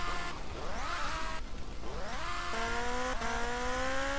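A motorcycle in GTA Vice City revs repeatedly, its engine pitch climbing in several rising sweeps with short breaks between gear-like surges, loud and close, with no talk.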